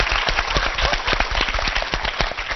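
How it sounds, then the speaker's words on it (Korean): Brisk, close applause from a lecture audience at a Korean talk event, many hands clapping quickly and evenly for a couple of seconds, loud and without speech. "박수 한번 주세요."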